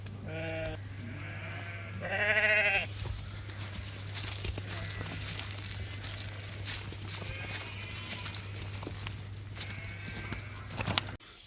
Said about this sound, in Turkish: Bu dediğim koyun bak budur.